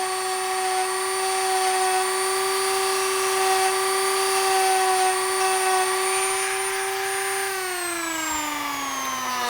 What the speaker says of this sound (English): This is more shaping sanding.